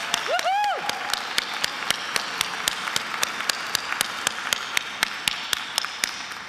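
Hands clap at a steady, even rhythm through an audience at the Fordham College Rose Hill Encaenia awards ceremony, with a brief rising whoop near the start and the beat continuing crisply to the end.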